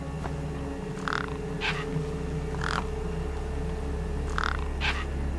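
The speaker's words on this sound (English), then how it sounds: "The gang birds were eyeing up the corpse hungrily." Large gang birds caw over a corpse in the video game Beyond a Steel Sky, giving about five harsh, spaced calls above a constant low ambient drone.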